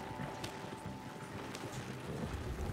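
Horse hooves clopping steadily as the animal pulls a wagon in a Western video game, a continuous rhythmic patter over a windy background.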